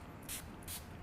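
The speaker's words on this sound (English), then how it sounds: "I'm just gonna give a spray of the final seal," Final sealer is sprayed from a bottle onto special-effects prosthetic makeup in two short, close hissing bursts, with a quiet room around them.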